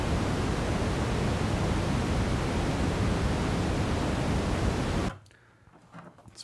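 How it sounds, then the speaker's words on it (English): Loud, steady analog pink noise from a DIY Serge-format modular synthesizer, a deeper, rumbling hiss running unbroken for about five seconds before stopping abruptly into near silence. "our pink noise output."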